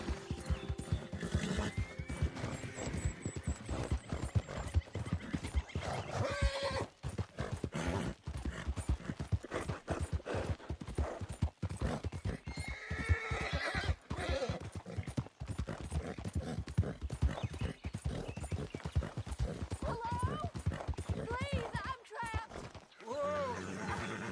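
Rapid hoofbeats clatter continuously while a horse neighs several times in the video game Red Dead Redemption 2, with game-like effects and occasional voices in the mix.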